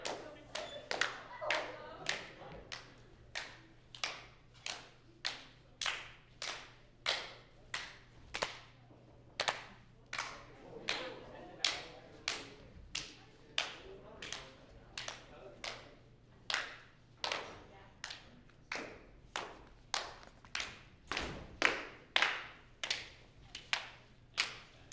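Sharp hand claps pass steadily around a group in a theater arts exercise, a quick regular chain of single claps, near and fairly loud, with faint murmuring beneath.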